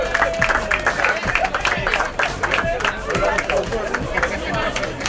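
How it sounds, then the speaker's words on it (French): Public applauding the winning rally crew at a Guadeloupe rally trophy ceremony, scattered sharp claps mixed with crowd chatter and a voice over a loudspeaker. "les applaudissements du public pour cet équipage"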